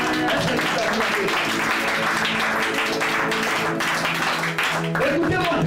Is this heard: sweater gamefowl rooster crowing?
no